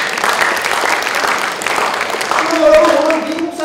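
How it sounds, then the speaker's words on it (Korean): Audience applause at a Washington DC forum on Korean reunification marking the 80th Liberation anniversary, a dense steady wash of clapping lasting the whole stretch, with a faint voice coming through near the end. "잘한 거 같으면 박수 한번 쳐주려고 했습니다."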